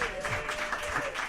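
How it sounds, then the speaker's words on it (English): Live audience at a comedy podcast taping in Seattle applauds in a steady, fairly dense clatter of clapping for a moment, with a faint voice beneath. "round of applause"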